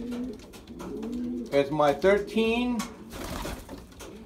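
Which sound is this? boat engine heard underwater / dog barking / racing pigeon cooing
racing pigeon cooing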